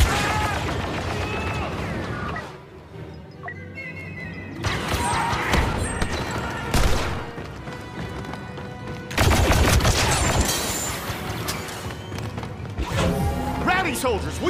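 Blaster gunfire in a Star Wars video game battle on Cloud City, with bursts of shots, crashes and booms over game music, while voiced characters shout commands throughout.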